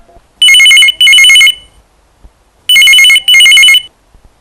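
A telephone rings for a call-in to a local FM radio station: two loud, close double bursts of electronic trilling separated by a pause, with near silence between the rings.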